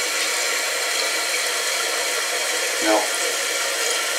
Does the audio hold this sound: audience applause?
no